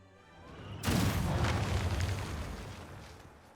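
A rocket strike in Civilization VI lands as a single loud, deep boom that swells quickly and rumbles away over a few seconds, with no voices.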